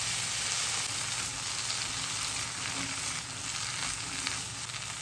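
Green beans and carrots sizzle steadily in a hot pan for a vegetarian minced-meat stir-fry, a dense, even hiss with no pauses.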